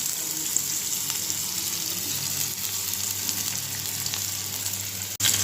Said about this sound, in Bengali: তো উস্তা আলু ভাজিটা বসিয়ে দিব আগে দিয়ে দিলাম পেঁয়াজ